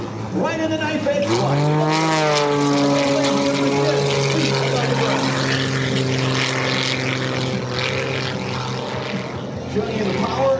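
An aerobatic propeller plane swoops low at the 2025 Wings Over South Texas Air Show, its loud engine roar rising and falling in pitch as it pulls up and passes, with an announcer talking over it.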